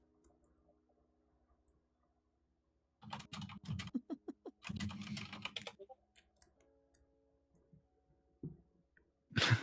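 Bursts of computer keyboard typing during an online role-playing character creation session, coming in quick clattering runs with pauses between them, fairly close and moderately quiet, with no talk over it.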